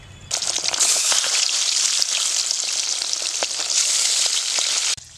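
Pabda fish sizzling as they go one by one into hot oil in a wok, a loud continuous crackle and spatter with sharp pops, close up and steady, with no talking.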